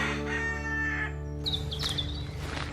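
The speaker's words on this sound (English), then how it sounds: "Rooster" A rooster crows loudly once, a long stretched call rising then trailing off, close by, with a steady hum in the background.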